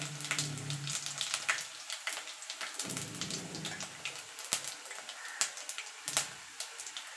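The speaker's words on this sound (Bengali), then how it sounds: "ফোড়নে দিয়ে দেবো 2টো শুকনো লঙ্কা আর 5 ফোড়ন" Two dry red chillies and five-spice seeds hit hot oil as a tempering for spinach chorchori, crackling and popping in irregular, close sizzling bursts.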